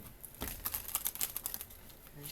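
Tarot cards being shuffled by hand, a soft papery rustle and riffle of crinkly patters, fairly quiet with no talking.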